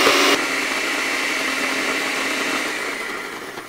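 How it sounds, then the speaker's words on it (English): An electric blender purees hot peppers into hot sauce, a loud steady whirring that slightly lowers after a brief initial surge and holds constant, close and alone. "So we're going to go ahead and turn on our blender, and we're going to blend this until we get a nice,"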